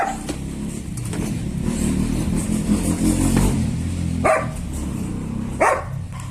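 Dogs bark near a pigeon coop, a few sharp barks rising over a steady low background rumble of passing traffic, the clearest barks coming near the end.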